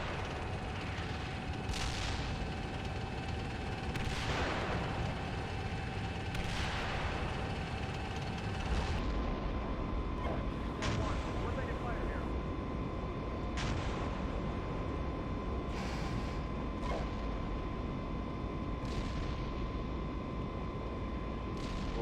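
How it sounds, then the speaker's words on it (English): Tank combat in Steel Beasts Pro: several sharp distant booms of tank gunfire and explosions punctuate a continuous low rumble, faint and spaced a few seconds apart over steady engine drone. "I'm taking tank fire from the east."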